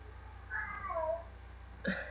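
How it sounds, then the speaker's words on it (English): A female cat in heat gives a drawn-out, wavering yowl, then a shorter meow near the end, heard close by in an otherwise quiet room. "And if you hear weird sounds, that's my cat. She's on heat"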